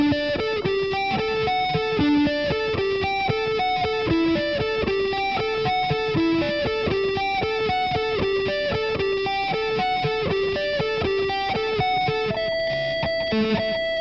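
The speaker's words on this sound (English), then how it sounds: "now the last time through this intro lick," Electric guitar with distortion playing an intro lick, a fast repeating melodic figure of bright picked notes running continuously and loud, with no talking.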